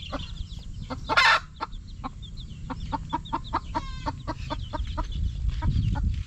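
Chickens cluck in a coop, a steady run of short, sharp clucks at close range, with one louder squawk near the start and a low rumble of background noise.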